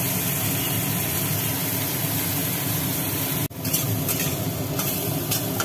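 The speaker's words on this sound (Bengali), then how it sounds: "এবার আলু আর বেগুন একসাথে দিয়ে দেওয়া হলো, উচ্ছেটা আর পেঁয়াজটা একটু ভাজির পর।" Potato, eggplant, bitter gourd and onion fry together in a pan with a loud, steady sizzle that breaks off for an instant before resuming, with faint stirring over it.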